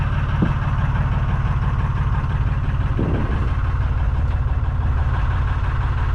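Narrowboat diesel engine idling steadily at the start of a cruise on a damp Sunday morning canal, a continuous low throbbing chug that holds even and close throughout, with a couple of faint knocks over it.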